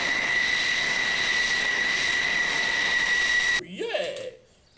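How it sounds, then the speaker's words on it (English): An American F-35 fighter jet gives a loud, continuous roar with a sustained high whine, steady for several seconds before cutting off abruptly, after which a voice is heard briefly. "American F-35 fighter jet"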